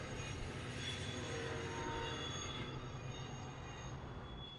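A freight train rolls through Cajon Pass in the mountains of Southern California, a steady loud rumble with faint wheel squeal and high metallic tones, sustained throughout and slightly fading at the end.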